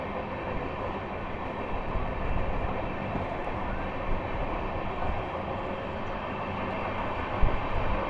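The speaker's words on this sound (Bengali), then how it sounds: "শিয়ালদা বালিয়া এক্সপ্রেস বেরিয়ে পড়ছে তার প্রথম এলএইচবি রানে" The Sealdah Ballia Express pulls out of Sealdah station on its first run with LHB coaches, a steady low rumble and rolling drone of the moving train heard from on board, with one brief clank near the end.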